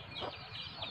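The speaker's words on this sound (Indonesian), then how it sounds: "Oh, penuh ayam tapi." Chickens at a small house in the middle of a forest, where poultry is raised, give a brief burst of faint clucking against quiet outdoor background.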